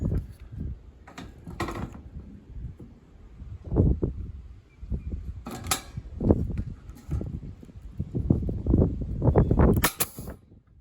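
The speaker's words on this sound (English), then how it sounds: "I put a staple in here and a staple in here" Steel soffit panels being stapled to fascia on a post-frame building, with sharp, close staple-gun snaps at irregular intervals amid rustling and handling of the metal panel.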